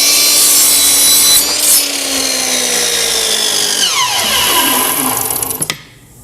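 A miter saw cuts through a wooden 2x4, whining loudly and steadily as the blade bites in, then winding down in a falling pitch and stopping abruptly near the end.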